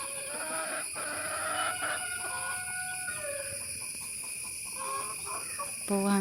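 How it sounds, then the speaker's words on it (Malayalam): Black hens cluck and murmur in irregular, overlapping calls at moderate distance, set against a constant high-pitched insect-like drone outdoors. "ചേട്ടാ കോഴിക്കൊക്കെ തീറ്റ കൊടുക്കാനായിട്ട് ഇറങ്ങി"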